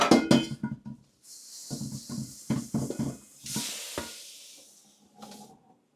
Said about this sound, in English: I'm just going to give my wok a little wipe out